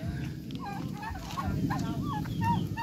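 Fowl, including roosters, call repeatedly in short rising and falling cries over a steady low rumble of outdoor background noise, at moderate distance and fairly faint.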